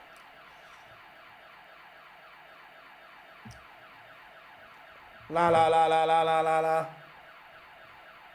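A loud electronic alarm with a stacked, buzzing tone suddenly blares inside a darts tournament venue, cutting in for about a second and a half over a commentator's steady speech and sung syllables, then stopping.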